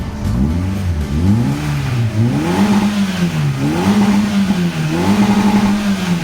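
A remapped Toyota Yaris with a 1.2 engine revs repeatedly while stationary. The engine note climbs and falls in several loud, close sweeps with no talking.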